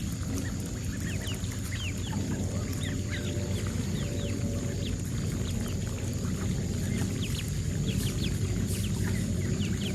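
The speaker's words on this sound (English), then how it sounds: "it's just chickens and ducks rustling in the leaves" Chickens cluck and chirp in short scattered calls over a steady low rumble, rustling in leaves, the birds fairly close and moderately loud.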